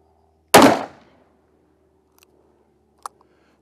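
A single sharp revolver shot from a Smith & Wesson 629 Competitor at a shooting range, loud and close, decaying quickly into quiet, with a couple of faint clicks afterward.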